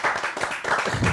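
A live audience claps and applauds for a guest, Salif Koulibaly, at a French comedy show; dense, steady hand-clapping fills the short burst from start to finish.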